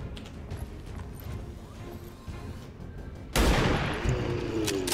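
A pistol shot in XCOM 2: War of the Chosen, a sudden loud crack bursting out over a low ambient battle bed, followed by a ringing decay and a few lighter clatters.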